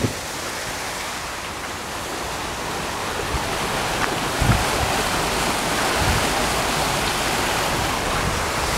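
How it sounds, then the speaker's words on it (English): Rushing water pours continuously, a dense, steady hiss like a waterfall heard from nearby, with no voices. "So that's the waterfall"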